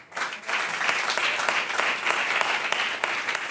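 Dense, steady audience applause from a large crowd at a French stand-up comedy show fills the whole stretch, a continuous wash of many hands clapping at even loudness, with no talking.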